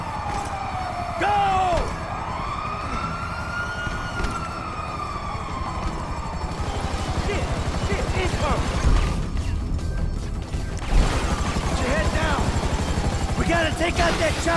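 A helicopter's rotor drones steadily in a Grand Theft Auto V scene, overlaid with siren-like wails, mechanical noise and bursts of voices, fairly loud throughout.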